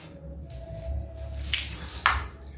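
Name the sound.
water poured into a car's coolant reservoir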